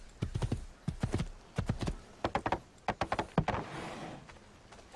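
Horse hooves clip-clop in an uneven trotting rhythm in the Assassin's Creed II video game, a run of close, sharp hoofbeats in quick bursts with no talking.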